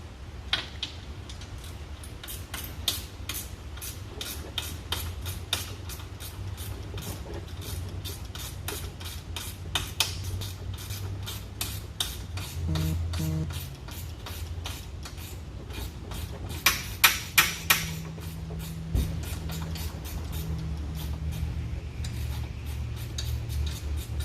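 10mm ratchet wrench loosening bolts on the core support of a 2018 Cadillac CTS, rapid close pawl clicking in repeated runs with occasional metallic clunks and knocks, no talking.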